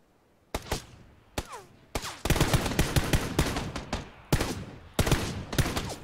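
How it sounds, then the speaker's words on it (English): Gunfire in a PUBG match: sharp, loud shots, first single cracks spaced apart, then a dense rapid burst followed by more separated shots, close and punchy with brief echoing tails. "Shots, shots."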